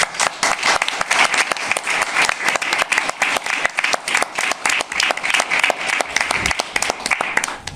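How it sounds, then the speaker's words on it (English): A local film showcase audience gives a hearty round of applause, loud and close, with individual sharp claps standing out in a busy, slightly uneven rhythm that carries on steadily throughout. "can we have a massive round of applause for our friends?"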